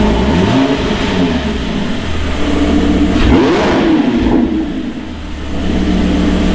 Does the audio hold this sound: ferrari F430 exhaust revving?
yes